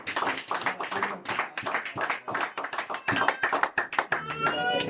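A church congregation claps in rapid, uneven rhythm to acclaim God, sharp hand claps repeating close and loud, mixed with voices and shouts throughout.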